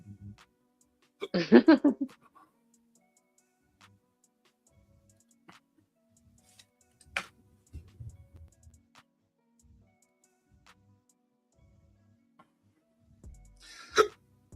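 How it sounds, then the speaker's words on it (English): Hiccups from a man sitting alone: a few sharp, close bursts spread unevenly over a mostly quiet stretch, with faint clicks and small noises in between. "Damn, I got hiccups like crazy."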